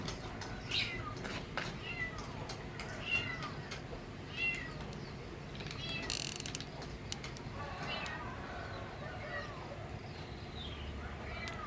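An orange cat meows repeatedly while being fed alongside a tricolor cat, short rising calls scattered through steady background noise with occasional clinks and creaks, and someone speaks softly between them.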